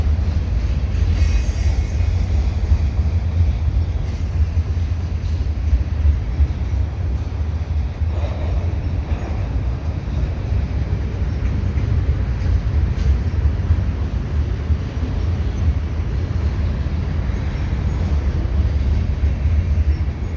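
Continuous loud rumble of a long CN mixed freight train with cars of coiled steel rolling past up close, wheels squealing and steady rail noise throughout, no voices.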